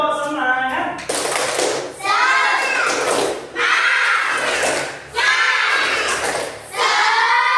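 Schoolchildren in a classroom perform a spirited group clap chant, loud bursts of clapping and shouting in rhythmic phrases with brief pauses between them.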